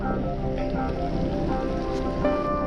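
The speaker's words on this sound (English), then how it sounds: "it's raining" Steady rain patters on surfaces in a continuous, even wash, heard outdoors on a December cycling trip through Croatia around sunset, with no voices over it.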